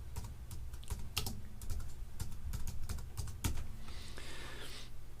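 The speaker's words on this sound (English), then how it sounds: "then I'll type beginners" Fast, close typing on a computer keyboard, a rapid irregular run of key clicks with a few sharper presses, steady and unaccompanied by talk.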